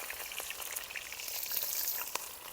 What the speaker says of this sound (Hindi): पहले थोड़ा सा प्याज जो है ना उनको फ्राई कर लेते हैं।